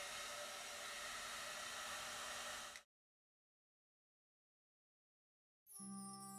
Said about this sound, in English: The hairdryer was perfect.